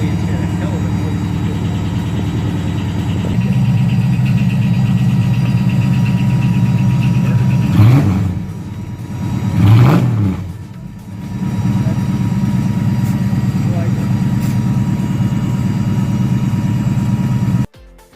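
The 360 V8 in an AMC Javelin holds a loud, steady idle, then rises in two quick revs midway before settling back to idle and cutting off at the end. Someone talks over it.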